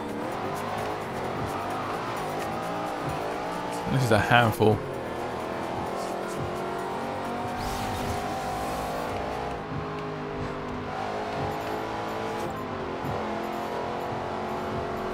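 Ford Shelby GT500 in the racing game Forza Horizon 2 droning continuously at moderate volume with engine revs and a brief tire screech, while someone talks over it.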